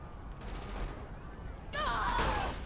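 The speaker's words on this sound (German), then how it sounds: "Schüsse." A quick burst of gunfire from the video game Saints Row IV, a few sharp shots in a row, fairly faint with game effects around them.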